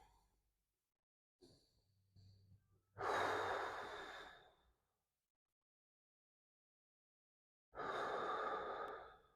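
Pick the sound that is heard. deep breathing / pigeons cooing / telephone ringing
deep breathing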